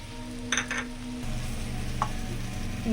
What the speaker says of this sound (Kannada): ಒಂದು ಸ್ಪೂನಷ್ಟು ಖಾರ ಪುಡಿನ ಹಾಕಿ ಫ್ರೈ ಮಾಡಿಕೊಡ್ತಾ ಇದ್ದೀವಿ